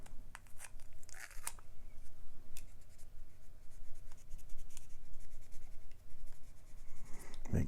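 Close, quiet rustling and rubbing of tape being handled and pressed onto the nib of a Lamy Dialog fountain pen, a continuous scratchy texture with small crinkles.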